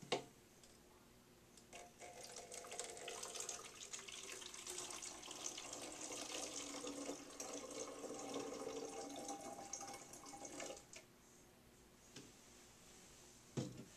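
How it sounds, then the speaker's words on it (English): Water pours steadily into a bottle for several seconds, a soft rushing stream with small clicks and taps before and after. "pour your 3/4 of a cup of water into the bottle"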